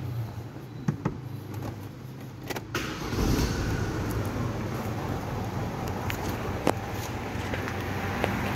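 A 2002 Daewoo Nubira sits while several clicks and clunks sound from inside the cabin, then its engine cranks and catches near the three-second mark and settles into a steady running hum, with a few light knocks over the top.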